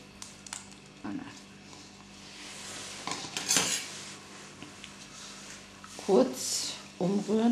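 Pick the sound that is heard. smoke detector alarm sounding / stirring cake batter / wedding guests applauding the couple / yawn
stirring cake batter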